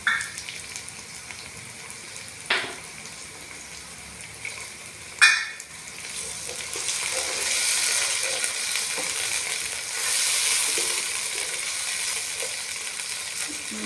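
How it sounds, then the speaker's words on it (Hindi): Ginger garlic paste drops into lentils frying in a pan for dal, with a couple of sharp clinks at first, then a steady, fairly loud sizzle that swells and holds. "अब हम इसमें डालेंगे अदरक और लहसुन का पेस्ट"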